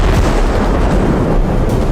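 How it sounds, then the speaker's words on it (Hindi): A guided missile strikes an ammunition depot in the Artyomovsk area during the Russia-Ukraine war, producing a loud, dense, sustained roar of blast noise with no talk. "छोटे से वाहन से गाइडेड मिसाइल फायर की गई और चंद सेकंड बाद एक जोरदार धमाका हुआ"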